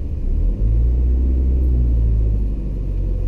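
A manual car's engine hums at the clutch biting point during a parallel reverse parking manoeuvre, a loud steady low rumble inside the cabin that holds almost unchanged from start to end.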